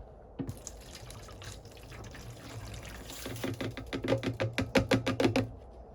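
Liquid trickles and then pours into a watering can in a quickening series of splashes and glugs, fairly quiet and close.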